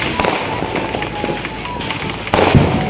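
Firecrackers bursting across Chennai during Diwali, a dense crackle of pops from all sides with a louder bang near the end, mixed with background voices.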